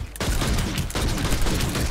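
Pistol fire in the Planetside 2 video game, a dense run of rapid, loud shots that fills the whole moment with little pause.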